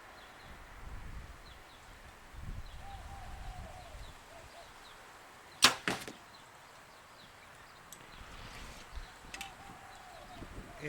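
A Bowtech Fanatic 2.0 compound bow releases an arrow outdoors on a calm day, a single sharp snap and thwack with a quick follow-up knock, amid faint birds and soft rustling.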